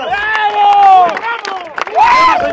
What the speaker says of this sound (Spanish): échale un aplauso, caramba